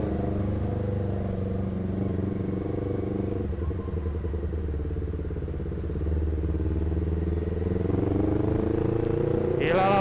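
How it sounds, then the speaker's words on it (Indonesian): Steady drone of many idling and creeping motorcycle engines close by in a midday traffic jam through Dramaga toward Leuwiliang, with occasional clatter and a brief high whine near the end. "Titik kemacetannya di sini guys."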